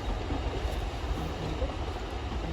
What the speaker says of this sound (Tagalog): Ayan yung train no.